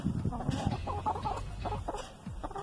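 Backyard homestead chickens cluck softly and steadily at close range, with a person talking to them over the low, irregular clucks.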